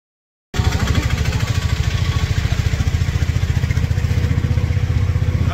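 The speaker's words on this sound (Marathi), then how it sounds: "रिक्षात बसून मार्गस्थ होत आहे बस स्टँडच्या दिशेने" An auto rickshaw engine chugs steadily throughout a ride toward a bus stand in Maharashtra, a loud, close, rhythmic low putter that starts abruptly after a brief silence and holds even, with clatter and road noise.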